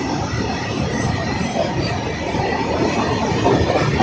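A very long combined goods train on Indian Railway rolls past close by, a heavy continuous rumble of wagons with clattering wheels and faint squeals, building slightly louder toward the end.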